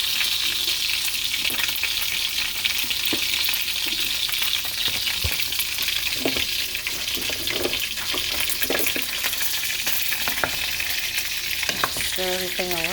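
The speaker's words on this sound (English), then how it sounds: "Stir everything around. I'm going to let this cook in the pot for a few minutes." Oxtails and aromatics sizzle steadily in a pot while a spoon stirs them, scraping and clinking against the metal every few seconds, close and fairly loud, with a brief run of higher clinks near the end.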